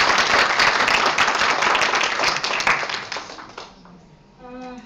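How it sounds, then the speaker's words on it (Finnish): Audience applause at a meeting, dense and loud for about three seconds, then thinning into scattered claps and fading out before a faint tone. "anneta kaikille ryhmille oikein kunnon aikomat aplodit vielä kerran"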